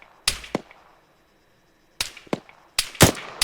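Sharp gunshots in the Arma 3 game: a single crack followed by a quick echoing follow-up, a pause of near silence, then another pair and a tighter cluster of loud, close shots near the end.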